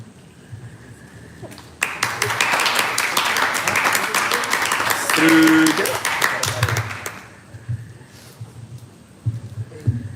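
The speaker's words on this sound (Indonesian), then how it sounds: "Tepuk tangan dong sekali lagi buat teman-teman kita yang depan ini" An audience bursts into applause after a student presentation, a loud dense clapping that swells for about five seconds before fading, with a brief tonal sound in the middle and quieter room noise on either side.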